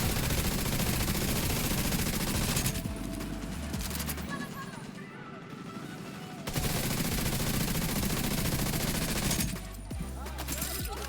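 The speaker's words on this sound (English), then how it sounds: "And we can just shoot from a distance, even with no armor." Gunfire from shooting in the video game Division 2, with dense bursts of automatic fire that ease briefly in the middle before resuming, loud and continuous over game effects.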